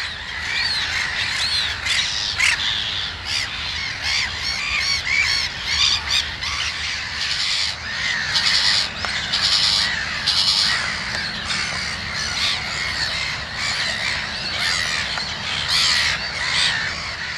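Gulls call repeatedly in loud, harsh squawks and cries at their nests, a dense continuous chorus of birds close by with no pauses.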